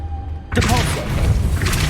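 A Depulso force spell is cast in Hogwarts Legacy, a sudden heavy thud and boom after a quiet moment, followed by a rumbling, crashing tail.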